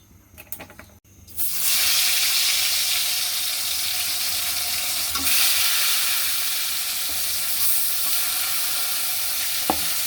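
Oil poured into a hot wok for frying fish in a pumpkin curry: after a brief quiet moment, a sudden loud, continuous sizzle and hiss takes over and holds steady with a few sharp pops.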